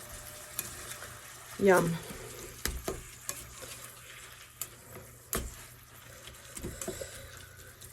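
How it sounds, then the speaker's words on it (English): Meat and onions fry in a pan under a soft sizzle while a utensil stirs and folds them, with scattered scrapes and clunks and one louder burst, and a voice briefly murmurs. "Just fold the onions into the meat here"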